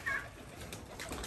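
Pigeons coo softly in a household loft, a few low, muffled calls against light background noise, with no talk over them.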